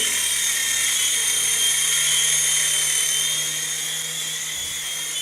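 Small Jun Quan Thunderbird 3CH infrared RC helicopter flying indoors, its rotor and motor giving a steady, close, high-pitched whine that holds without a break and eases slightly near the end.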